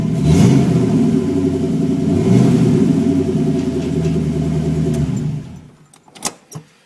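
A Ford Mustang GT runs its engine with a deep, loud, close rumble that rises and surges for about five seconds. It then cuts off, followed by a few faint clinks and knocks.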